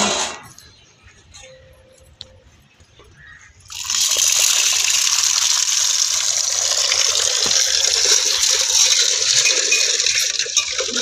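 Water pours steadily over lentils being washed, with a quiet stretch of faint handling sounds first. Then a loud continuous rushing gush starts partway in and runs on to the end, with no talk.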